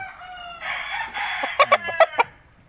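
A six-month-old stag rooster crows nearby, a loud drawn-out call followed by several sharp clucking notes, clear and alone.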